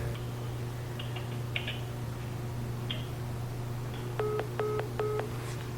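Three evenly spaced telephone keypad tones beep near the end over a steady low hum, with faint clicks earlier in the quiet room.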